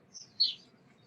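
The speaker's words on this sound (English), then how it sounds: "The birds are sure singing in Sarasota." Birdsong in Sarasota: a couple of short, high chirps, the second louder, over a soft low background hum.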